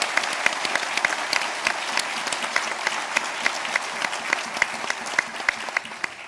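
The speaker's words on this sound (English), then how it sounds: "I'm really proud of them, so they deserve some applause for that." An audience at a speech by President Obama in Charleston breaks into sustained applause, a dense, even wash of many hands clapping that holds steady for several seconds with no voice above it.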